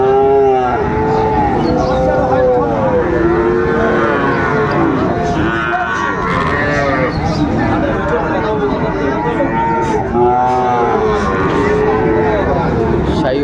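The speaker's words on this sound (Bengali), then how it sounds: "শাহিওয়ালের ষাঁড় বাচ্চা" Sahiwal bull calves around five months old moo repeatedly at a busy cattle market, loud overlapping calls rising over crowd chatter and nearby talk throughout.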